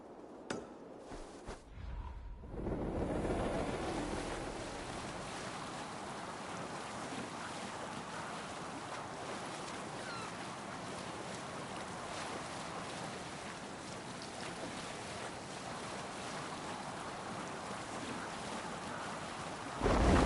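A sailing ship at sea in the video game Assassin's Creed Valhalla: a steady rush of wind and water runs unbroken for about twenty seconds after a few soft knocks at the start.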